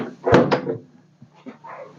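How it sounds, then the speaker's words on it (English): Push-button latched cabinet door aboard a Vancouver 36 bluewater cruiser sailboat, two quick close knocks up front followed by fainter clicks and rustling, nearby and alone. "all of the cabinetry is like push button latched."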